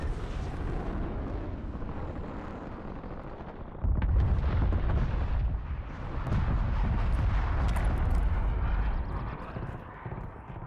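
Sniper rifle fire in a multiplayer shooter video game, heavy booming shots and rumbling blasts over a constant background of distant battle noise, with a loud burst near the middle and another sustained rumble later.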